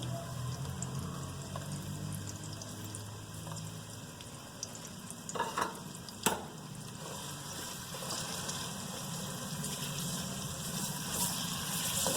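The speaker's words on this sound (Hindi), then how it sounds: "ऑयल हमारा गर्म हो गया है, अब मैं इसके अंदर प्याज ऐड कर रही हूँ।" Onions dropped into hot oil in a home kitchen pan, a steady hissing sizzle with a brief burst of crackle midway, heard alone without talk.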